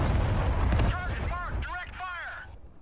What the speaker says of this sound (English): I got artillery firing as well on it.